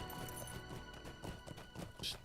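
Irregular clopping horse hoofbeats in the game LOTRO mixed with a faint voice and scattered game effects, fairly quiet throughout.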